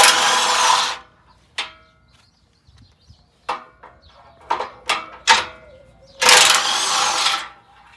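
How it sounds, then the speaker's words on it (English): A power tool with a 14mm deep socket spins nuts off bumper studs on a Toyota Sequoia during an ARB bumper install, with two loud sustained whirring bursts and several short trigger pulses between them, close up. "now we're going to be using a 14mm deep socket"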